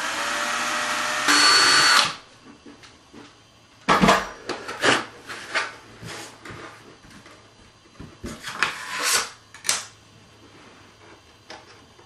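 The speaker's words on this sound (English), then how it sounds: "we're just going to drill through the firewall into that plywood, or into the balsa" Small drill boring through a plywood firewall into balsa wood on a model aircraft build, a brief high whine at the start followed by scattered clicks, taps and handling noises close by.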